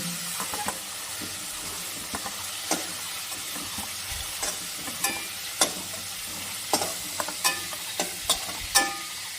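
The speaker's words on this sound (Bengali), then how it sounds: "মাছটা আমার হালকা ভাজা হয়ে গেছে, এবার তুলে নিব" Prawns sizzle steadily in hot mustard oil, broken by scattered clicks and scrapes of stirring, close and with no voices.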